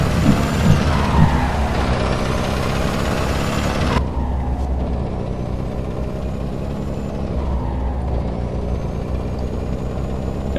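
A Volvo truck braking on a slope in Euro Truck Simulator 2 rumbles loudly, then gives a sharp cut and hiss of air brakes midway, with the heavy engine droning on steadily afterward.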